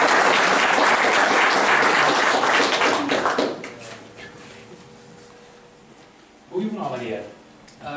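Dense applause from an audience at a Dutch release event for a themed local-history issue, loud for about three seconds, then thinning to scattered claps, before a brief burst of talk near the end.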